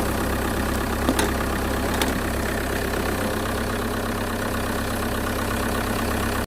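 A 2.2 litre diesel car engine idling close by, a steady rough clattering drone with a couple of faint clicks, cutting off abruptly at the end.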